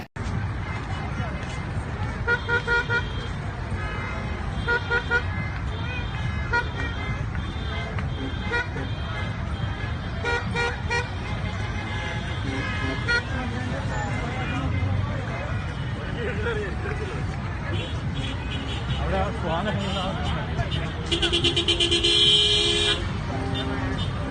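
Car horns honking in heavy traffic on UAE National Day in Abu Dhabi, repeated toots and a busy road bed running throughout, with people talking nearby over the noise.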